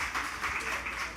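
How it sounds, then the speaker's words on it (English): Audience applause at a book launch event, a steady wash of many hands clapping at moderate level with no clear breaks, filling the whole short stretch. "Let's give Ms. Milhodge another round of applause."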